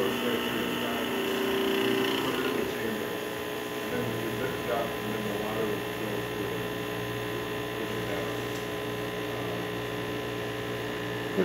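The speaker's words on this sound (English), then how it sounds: "hopefully we can see a nice shot of espresso coming out" Steady droning hum of a Breville Ikon espresso machine's new pump pulling a shot with finely ground coffee, continuous and close, with a pitch shift early on and faint speech in the background.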